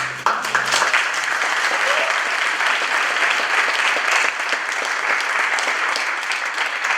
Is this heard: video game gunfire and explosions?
no